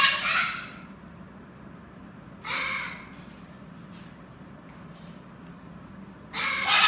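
Cockatoos giving loud, harsh screeching calls, three separate shrieks spaced a few seconds apart over a quiet background.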